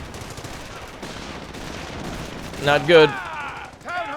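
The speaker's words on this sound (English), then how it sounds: "they're hitting us with artillery now" Artillery fire in the Company of Heroes video game, a burst of heavy booming impacts mid-clip amid ongoing battle noise, with someone talking over it.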